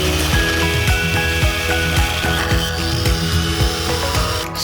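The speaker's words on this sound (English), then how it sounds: "we're going to go ahead and get started by cutting the nuts off" Power tool cutting the nuts off a Jeep JK bumper mount, a loud continuous whining grind with repeated rhythmic ratcheting pulses throughout, close up and with no talking.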